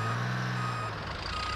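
A cartoon crane truck beeps steadily as it reverses, a loud repeating electronic tone over an engine hum, with no talk.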